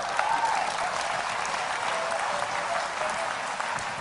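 Steady audience applause filling a hall during a motivational talk, a continuous dense patter of many hands clapping at even loudness for several seconds, with no distinct voice over it.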